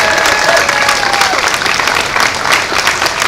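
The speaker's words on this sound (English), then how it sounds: "So give them a round of applause." Sustained applause from an audience at a Chicago political speech honouring city workers, dense and steady clapping throughout, close and loud with no talk over it.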